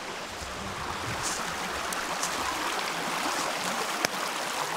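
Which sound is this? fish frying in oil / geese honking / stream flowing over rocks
stream flowing over rocks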